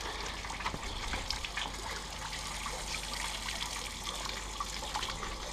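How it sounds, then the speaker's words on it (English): Running water rinses xanthan gum and caustic stripper off a brush, a steady splashing trickle from a tap into a sink, moderately close with no talk. "Rinsing off the Xanthan gum"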